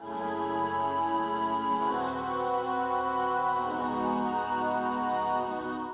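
A sustained synth patch from the Glaze plugin, widened with MicroShift and treated with reverb and a Crystallizer effect, holds layered chords with a shimmering, washy tail, steady and loud, with no voices.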